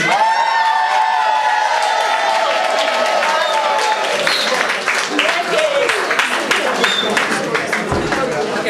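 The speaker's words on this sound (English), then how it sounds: "Keep clapping, please, until she comes here." A crowd at a Nigerian school alumni gathering in the UK applauds to welcome a speaker, steady clapping mixed with cheers and whoops, while voices talk and music plays underneath.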